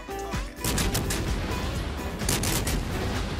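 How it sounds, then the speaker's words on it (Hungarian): Ship cannon fire in World of Warships, heavy booming salvos with crackling, rumbling blasts that roll on loudly and close, repeated bursts layered over a deep low-end roar. "De jó hangja van ennek a faszott ágyúnak"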